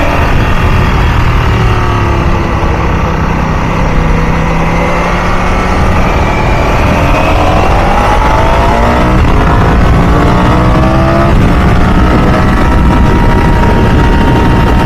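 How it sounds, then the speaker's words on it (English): A 2025 Ducati Panigale V4 engine running on its stock exhaust, a steady, fairly tame mechanical drone with rising and falling revs sweeping through the range, continuous and close throughout with no talk. "It does need an exhaust because it's pretty quiet, pretty tame."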